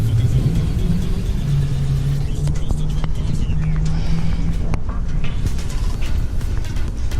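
A Dodge Challenger R/T 392 V8 idles with a deep, loud exhaust rumble and a few light blips of revving, close by and steady throughout.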